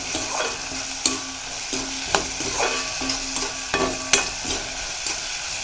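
Onion and tomato sautéing with salt in a pan, a steady sizzle broken by regular scraping knocks of a utensil stirring, close and fairly loud with no talking.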